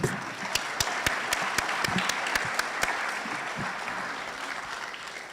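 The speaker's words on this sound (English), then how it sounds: "Let me just clap if you're not going to clap now." Graduation audience at a cybersecurity program ceremony clapping, with several sharp, distinct nearby hand claps over a softer crowd patter that gradually tapers off toward the end.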